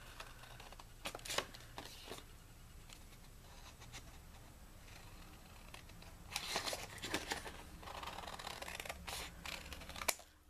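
Scissors snipping through a paper envelope template, with soft, close cuts and faint paper rustling in irregular bursts across a quiet background and no talk.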